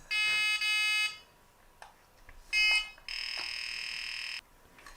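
A 1980s MB Pocket Simon handheld electronic game sounds its tones: two short buzzy beeps, a pause with faint clicks, another brief beep, then a longer steady tone, all loud and close with no voices.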